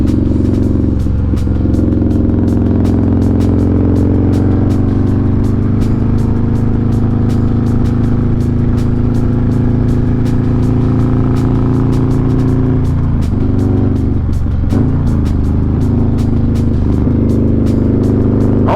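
Harley-Davidson Street Glide with a 128 engine riding on the road after a downshift, a loud, steady low engine drone with road and wind noise running throughout, easing briefly late on.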